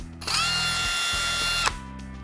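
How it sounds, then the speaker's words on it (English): A Ryobi ONE+ 18V cordless brushless drill driver (R18DD5) whines loudly as it drives a screw, holding a steady high motor tone for over a second before it cuts off, with no talk. "automatically drives screws flush before slowing to a pulse, allowing you to set screws exactly where you want them"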